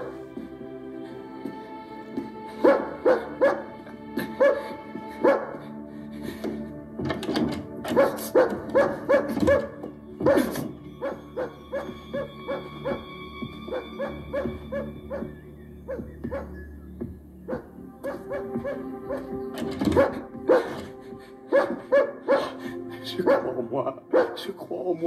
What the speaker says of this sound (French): Va faire taire ce chien tout de suite.